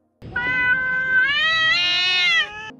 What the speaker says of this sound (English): Cat yowling.